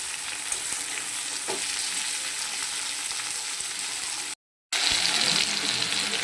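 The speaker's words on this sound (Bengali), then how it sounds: "টমেটোটা আমার ভাজা হয়ে গেছে, সবজিগুলো ভাজা হয়ে গেছে" Tomato, beans and potato sizzle loudly and steadily in oil while a rohu fish curry is being cooked. The frying sounds continuous and close, drops out for a brief moment near the end, then comes back.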